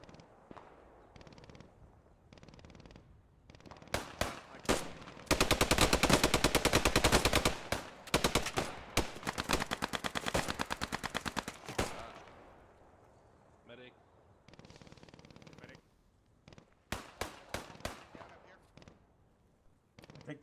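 Bursts of rapid automatic gunfire and single shots ring out in the World War II shooter game Post Scriptum, with a pistol among the weapons, dense volleys in the middle and scattered shots before and after.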